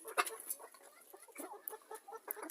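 A rooster and hens cluck softly and intermittently in a farmyard, faint short calls close together.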